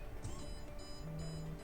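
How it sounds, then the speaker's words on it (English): A door alarm system beeps when the door is opened, faint repeated high electronic tones in short bursts over a low indoor hum. "the alarm will be beeping"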